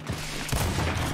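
Rapid gunfire from a Gears 5 free-for-all multiplayer match rattles out in a loud, dense burst of repeated shots, starting with a sharp crack and continuing as sustained automatic fire.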